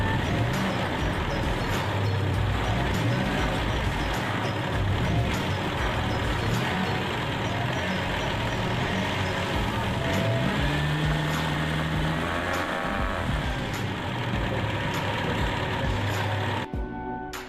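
A Toyota Kijang 5K engine runs with a loud, steady drone, its pitch swelling and easing as the gas pedal is pumped, joined by a few faint clicks before it cuts off.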